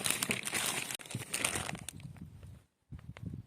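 Plastic parcel bags crinkle and rustle loudly and continuously as they are handled during unpacking, then go briefly silent before quieter rustling resumes.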